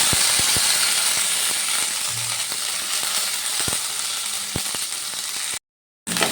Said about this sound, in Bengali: এবার ওই তেলের মধ্যে আমি দিয়ে দিচ্ছি আদা টমেটোর পেস্ট